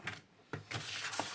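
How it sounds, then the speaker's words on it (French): A paper trimmer slices paper for a flipbook, making a few close, sharp cutting and sliding strokes with a soft clack as the blade comes down. "Donc moi, je vais reprendre mon massicot."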